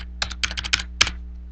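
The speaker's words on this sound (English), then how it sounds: "I will type in a bunch of 1s." Several quick keystrokes on a computer keyboard entering a string of 1s, close and crisp in irregular bursts, then the room goes quiet with a steady low hum underneath.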